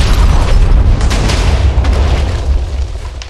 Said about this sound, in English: it's gonna shoot like an orbital, like, death ray, and make a huge explosion